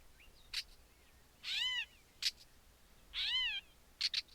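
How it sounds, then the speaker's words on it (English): Wild birds giving mew calls in the field, two drawn-out wavering mews among several short sharp chirps, faint and isolated against a quiet background. "And those are mews kind of interspersed in that."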